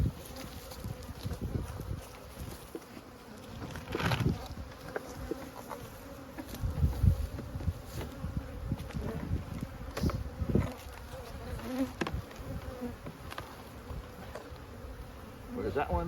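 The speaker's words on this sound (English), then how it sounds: "About 5 to 6 frames of bees" Honeybees hum in a hive brood chamber holding five to six frames of bees, a steady close buzz with scattered louder swells and handling knocks, and no one speaking.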